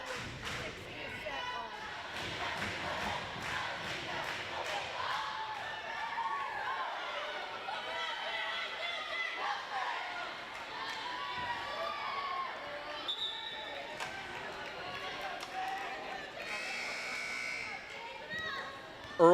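A high school gym crowd at a girls' volleyball match cheers and chatters through a timeout, with a steady, lively roar of voices, some claps and squeaking shoes, and a commentator talking over it.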